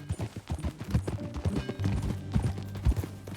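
Horse hooves clip-clop in Red Dead Redemption on PC, a brisk, uneven walking rhythm of close, distinct hoof hits with a low tonal game hum beneath.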